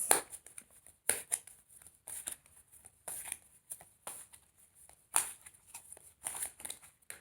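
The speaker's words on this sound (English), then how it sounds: "I won't pick that up because my shuffling wasn't over" Crisp papery riffles and taps of tarot cards being shuffled close by, coming in quick bursts separated by short pauses.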